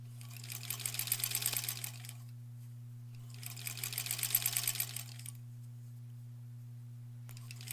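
A sewing machine stitches quilt blocks for a granny squares quilt in two steady, rapid runs of a few seconds each, with quiet gaps and a constant low hum underneath.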